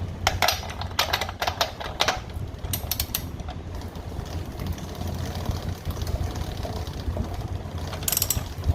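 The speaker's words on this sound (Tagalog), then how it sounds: "Inikot natin yung gulong, sabay higpit dito sa axle nut." A Honda CBR650R rear wheel spins while its axle nut is tightened, giving a rapid ratcheting clicking in fast bursts over a steady whirring mechanical background.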